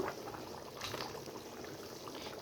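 Fish and mixed vegetable curry with added water bubbles at a boil in a pot, giving a soft, faint, steady simmering and gurgling close by with no talking.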